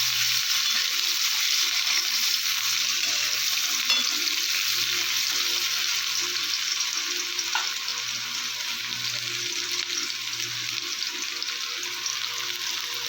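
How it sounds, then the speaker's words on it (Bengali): Sliced onions dropped into hot oil tempered with nigella seeds for a Bengali morola fish and radish dish, a loud continuous sizzle with soft stirring noises running throughout, close and without voices. "পেঁয়াজ দিয়ে তো হালকা নাড়াচাড়া করে নেব"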